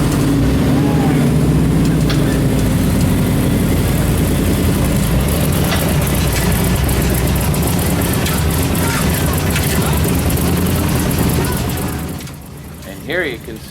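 A 4x4 rock buggy's engine runs loud and steady at close range while the vehicle sits hung up on a tree during an extreme recovery, the rumble fading near the end as people talk nearby.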